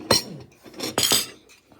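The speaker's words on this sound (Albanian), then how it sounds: "Aj gëzuar Ilda." Glasses clink together in a birthday toast, with two or three bright, sharp taps close by and short ringing tails in a quiet room.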